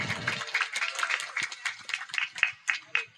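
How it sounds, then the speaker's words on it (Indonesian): Audience clapping in celebration of PKLB at a one-year anniversary stage event, a steady patter of many hands through the whole stretch, fairly close, with a little voice activity mixed in. "Tepuk tangan buat PKLB."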